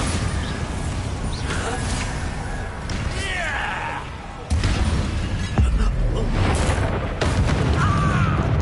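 The Bombarda explosion spell in Hogwarts Legacy lands as sudden heavy booms with crashing bursts partway through, amid other spell effects and game noise while people talk.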